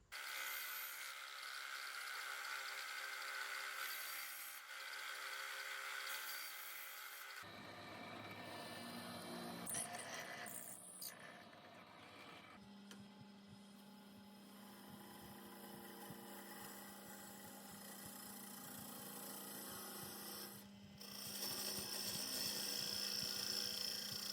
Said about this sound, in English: let's get this processed on the lathe